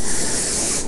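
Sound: aerosol spray can spraying

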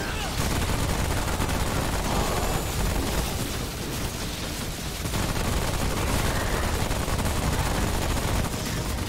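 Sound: gunfire in the video game Remnant: From the Ashes

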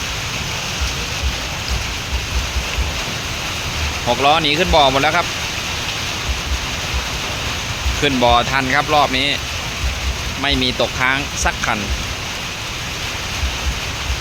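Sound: rain

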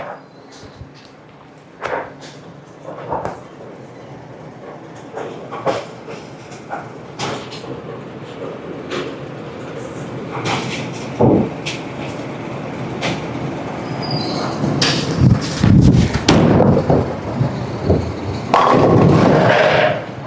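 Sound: bowling ball rolling down the lane and hitting pins

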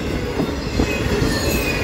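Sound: freight train passing at night

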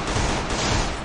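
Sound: gunfire in a shooting video game

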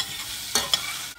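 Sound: onions and curry leaves sautéing in pan

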